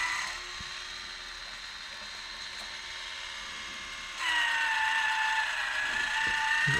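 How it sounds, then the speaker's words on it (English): A Woodland Mills bandsaw blade sharpener runs with a steady mechanical whir, and its advancer clicks the blade forward to the next tooth. The pitch shifts louder and brighter partway through, close up with no talk. "we want this advancer to push the tooth further"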